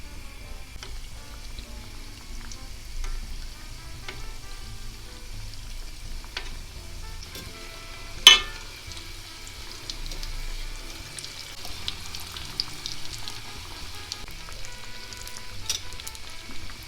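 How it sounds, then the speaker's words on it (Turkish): Karakuş dessert dough frying in plenty of oil in a pan, a steady faint sizzle and crackle running throughout with one brief sharp clink partway through. "Tavaya bolca sıvı yağ koydum ve tatlılarımızı kızartmaya başlıyorum."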